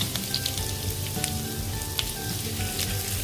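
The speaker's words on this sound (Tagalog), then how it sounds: "Ngayon, pwede na natin ilagay ang ating garlic." Garlic hits hot oil alongside frying ginger in a pan, giving a steady, close, crackling sizzle with scattered pops that runs evenly throughout, no voices over it.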